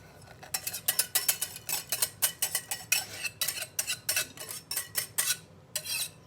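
A metal spoon scrapes and clinks against a bowl while getting room-temperature eggs out, about twenty quick, sharp strikes in an irregular rhythm, close and clear.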